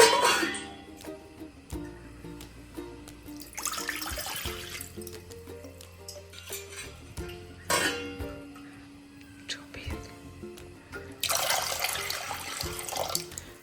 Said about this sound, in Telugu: అందులో రెండు కప్పుల బియ్యం పిండికి రెండు కప్పుల వాటర్ వేసుకుందాం